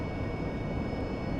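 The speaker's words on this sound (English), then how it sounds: "I'm going to throttle up and start my takeoff roll" Steady, dense engine roar of a jet throttled up for a takeoff roll with nozzles facing aft in a flight simulator game, loud and continuous with no talk.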